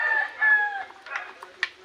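Backyard chickens with a rooster crowing close by in a drawn-out call, followed by short clucks and scattered fowl sounds, with no talking.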